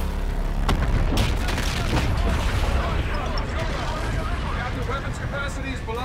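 Sustained futuristic gunfire in Call of Duty: Infinite Warfare, a dense barrage of booming shots and explosions at steady loudness over a rumbling battle soundscape, with a voice talking over it.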